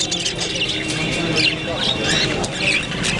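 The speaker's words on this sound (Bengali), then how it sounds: "পাখিদের কলরব শুনতে কার না ভালো লাগে।" Small colourful birds kept for sale chirp and squawk in quick, overlapping bursts close by, with a voice audible beneath the chatter.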